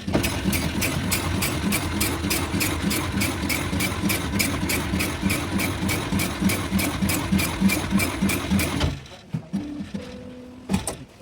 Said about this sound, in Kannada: ಈ ಥರ ಮಷಿನ್ ಸ್ಟಾರ್ಟ್ ಆಗಿಬಿಟ್ಟು ಹೇಗೆ ಕಟ್ ಮಾಡುತ್ತೆ ನೋಡಿ.